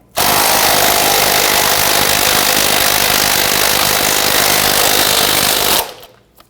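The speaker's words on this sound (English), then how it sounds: "We're going to use our socket and impact to go ahead" A power impact wrench loosens a 15 millimeter sway bar link nut on a 2007-2017 Jeep Patriot, a loud continuous buzzing hammer for about six seconds, close up, before stopping abruptly.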